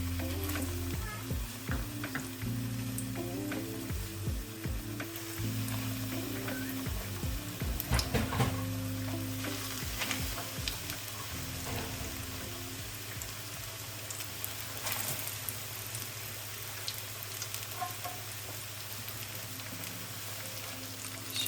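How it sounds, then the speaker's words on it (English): A salmon patty coated in lupin flakes fries in hot oil with a steady, close sizzle and crackle, punctuated by brief pops and spits, with no voices. "The oil is hot enough, and just going to put this one gently in the oil"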